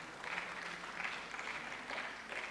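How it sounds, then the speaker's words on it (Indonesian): Applause from a church congregation at a Sunday worship service, honoring people about to be baptized; steady, dense clapping that fills the room evenly throughout with a few brief swells. "Tepuk tangan buat mereka"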